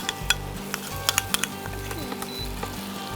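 Cashew paste and green chillies sautéing in a pan for prawn curry, a steady close sizzle with a spoon scraping and stirring in rhythmic strokes and light metallic clinks.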